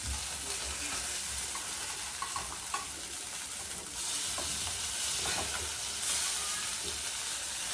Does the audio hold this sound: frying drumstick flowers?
yes